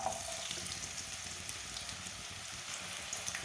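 Chopped onions frying in oil in a pan, giving a steady, dense sizzle up close, unbroken and without talking.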